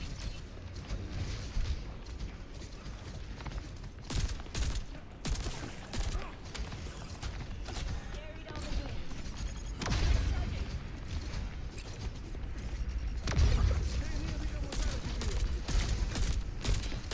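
Rapid bursts of gunfire crackle through an Overwatch match, dense repeated shots with heavier booms now and then, carrying on steadily for many seconds alongside other game noise and occasional voices.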